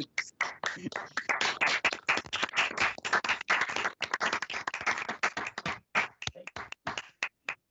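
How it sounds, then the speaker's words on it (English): Board of Commissioners members clap at a work session, a sparse, uneven patter of a few hands close by that thins out toward the end, with no talk over it. "if you could just give a clap, a clap and also our directors that's on the line"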